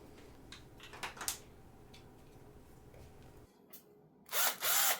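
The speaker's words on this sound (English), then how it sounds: "we're going to start out with a power drill." Scattered clicks and handling noise, then a power drill with a Phillips head bit whirs in two short, loud bursts near the end while removing speakers from a Line 6 AX2 212 combo amp.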